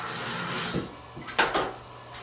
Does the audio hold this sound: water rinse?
yes